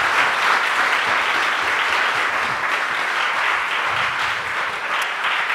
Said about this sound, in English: So if you can give me a nice round of applause to all our panelists and stuff